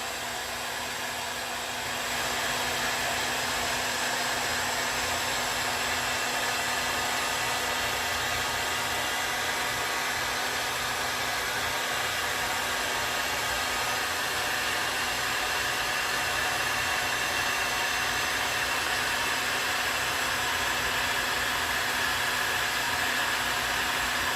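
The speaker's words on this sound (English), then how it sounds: "this is when I'm going to take my heat shrink and we're going to start shrinking down the rate cam" Heat gun shrinking heat shrink tubing on a crank sensor pigtail wiring harness, a steady loud blowing roar that starts after a brief quiet moment and runs unbroken, close by.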